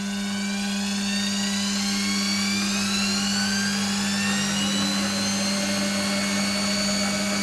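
A Warco WM180 metal lathe spins up to about 1000 RPM, a loud steady motor hum with a high whine whose pitch rises gradually as the speed climbs, running alone throughout.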